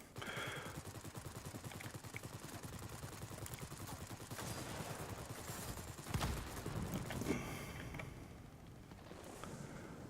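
Aircraft gunfire in World of Warplanes sounds as fast, continuous rattling bursts of machine-gun fire with a louder burst in the middle, at moderate level and with no talk.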